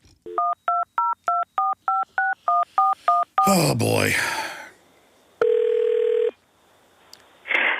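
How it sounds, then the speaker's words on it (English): A phone line is dialed with a quick, even run of about ten DTMF keypad tones. A burst of noisy speech follows, then a long steady tone and a brief final beep. A man murmurs briefly. "Dial them from another phone line."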